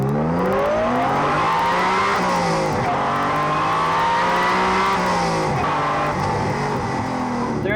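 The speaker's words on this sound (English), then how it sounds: "It's still got that high revving VTEC howl." A supercharged sports car engine with VTEC revs hard and continuously, its pitch climbing and dropping through gear changes with a loud, high howl.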